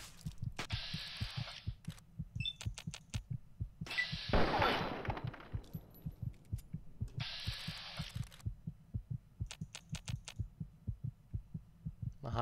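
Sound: heartbeat sound effect in Fallout 3 video game

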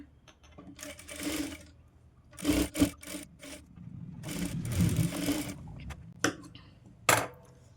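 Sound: sewing machine stitching a blouse

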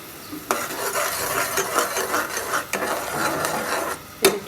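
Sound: spice paste frying in oil

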